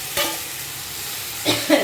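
Ground greens, prawn and garlic paste frying with onion in a pan: a broad, steady sizzle runs under scraping stirs near the start and again toward the end, close and fairly loud with no talk.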